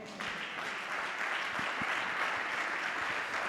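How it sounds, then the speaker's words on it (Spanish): A church congregation applauds together, a dense steady patter of many hands clapping at moderate distance, with a few thumps and no speech over it. "¿Cuánto le dan un aplauso al Señor?"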